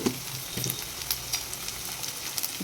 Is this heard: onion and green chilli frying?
yes